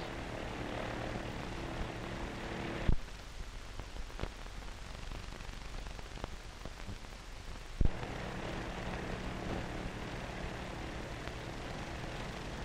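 Steady droning hum of a 1933 American Airways airliner's engines in flight, constant and fairly faint, with a couple of soft clicks.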